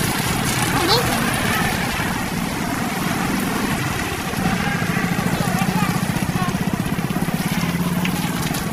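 A motorcycle engine idles and revs close by with a steady rumbling throb, while people talk over it throughout.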